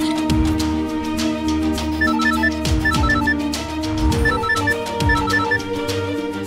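A telephone rings with a repeating electronic ringtone melody, its short tone bursts recurring in a steady pattern over low background music in a tense crime drama.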